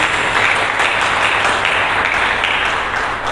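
A church congregation applauds steadily during a sermon, many hands clapping together in a loud, continuous wash that tapers slightly at the end.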